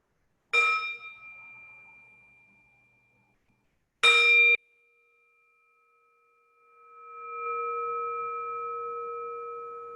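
A bell struck twice, each strike ringing out and slowly fading, followed by a softer sustained tone that swells and hangs in the quiet.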